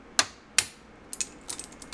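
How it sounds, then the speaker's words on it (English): A hammer strikes a part on an RC airplane in two sharp, close knocks, followed by a few lighter clicks and rattles as the piece comes loose. "But if I just take this thing and swiftly stab it with my hammer,"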